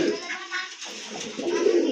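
Pigeons cooing in a loft where birds are sold, a soft continuous throaty coo close by, with faint background noise.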